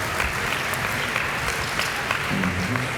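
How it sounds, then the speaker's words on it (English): An audience at a Super Smash Con 2017 convention panel applauds steadily, a dense wash of clapping throughout with a faint voice briefly heard over it. "Let's give him a round of applause."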